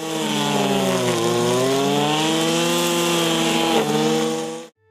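A grass cutter machine with a nylon rope cutting head, 2.7 to 3 mm thick, runs at high revs with a loud, steady, buzzing two-stroke whine that dips slightly in pitch, then cuts off abruptly at the end.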